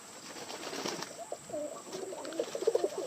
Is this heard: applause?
no